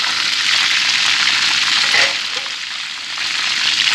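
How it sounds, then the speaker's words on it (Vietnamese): Chicken wings sizzle steadily as they fry in a pan for a spicy fish-sauce dish, a loud, dense crackle that dips slightly midway and then continues with no talking. "mình để đây chúng mình sẽ chiên cái gà"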